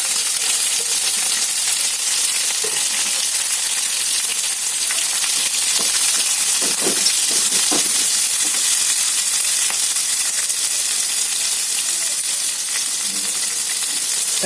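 Finely chopped green chillies, onions and ginger fry in hot oil with a loud, continuous sizzle, broken by faint scattered stirring clicks and no talking.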